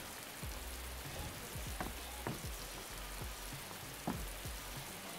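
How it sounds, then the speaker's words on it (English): Steady rain falls inside a house in the video game Dark And Light, a dense even patter of drops with scattered louder plinks, continuous and fairly soft with no voices. "Like, you can even see the rain coming into my house."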